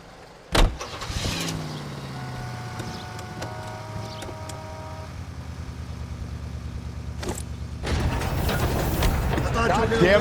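A car in the video game LA Noire, starting up and driving in a city chase: a sharp door-slam-like hit, then a steady engine hum with tonal whine that swells into a louder rush of road noise near the end.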